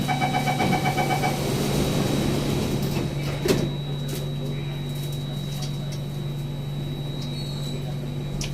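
Doors on a Singapore SMRT metro train close with a rapid chiming warning beeps followed by a brief mechanical thud, heard from inside the carriage over a steady motor hum.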